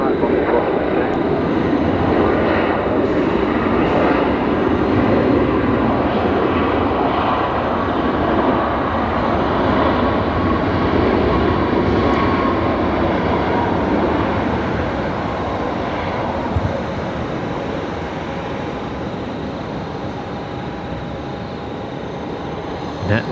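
A Boeing 737 Max 8 airliner at Brisbane Airport gives off a broad, sustained jet engine roar that stays loud and steady throughout, then eases slightly toward the end, under occasional talk.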